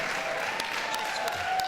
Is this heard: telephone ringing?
no